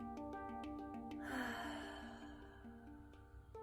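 Someone takes one soft, audible out-breath during a guided midday meditation, heard over gentle sustained background music tones.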